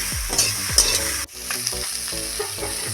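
Cauliflower fries in a pan with turmeric, a continuous close sizzle with clanks of stirring, then a sharp drop as the pan noise briefly dips before the frying resumes.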